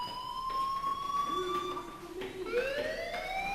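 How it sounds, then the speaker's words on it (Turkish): A school fire alarm in the video game Life Is Strange blares continuously as a sliding, siren-like electronic wail with several overlapping tones, steady and fairly loud throughout. "do you hear that fire alarm? That means you should be outside."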